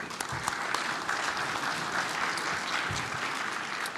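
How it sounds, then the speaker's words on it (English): Audience applause for a conference panel of federal officials, a moderate steady clapping that fills the room at medium distance with no talking over it. "let's give them a round of applause."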